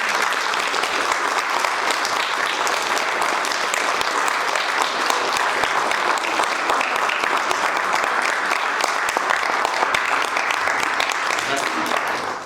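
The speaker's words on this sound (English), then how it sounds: "please give Eli the biggest round of applause because" Sustained, loud applause from an audience after a senior recital, continuous dense clapping that fills the whole stretch without pause and fades slightly at the very end.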